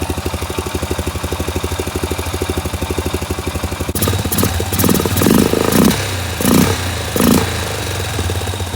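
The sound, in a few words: 2003 Honda Rincon 650 4x4 ATV engine running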